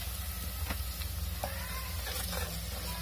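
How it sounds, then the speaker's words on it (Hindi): Ginger and garlic paste frying in oil in a pan, a steady close sizzle with occasional stirring scrapes over a low continuous hum. "इसमें डाल देते हैं 1 टेबल स्पून जिंजर पेस्ट और 1 टेबल स्पून ही गार्लिक पेस्ट। इसको पहले थोड़ा सा भून लेते हैं हम"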